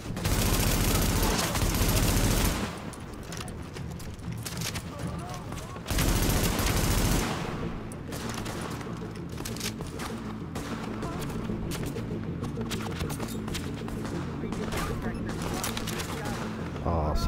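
Sustained automatic gunfire in The Division during a firefight at Madison Field Hospital, a dense loud stream of rapid shots running nearly the whole time, with brief pauses and heavy low rumble, and voices speaking over it.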